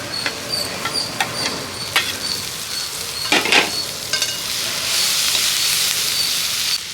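Curry leaves crackle in a pan of frying ginger and turmeric, with scattered sharp pops and stirring scrapes giving way to a sustained loud hissing sizzle.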